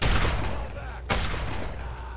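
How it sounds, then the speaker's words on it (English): Shotgun blasts in the video game Fallout 3, a dense rumbling burst of gunfire with a sharp crack near the middle, loud and close amid game noise. "Shotgun."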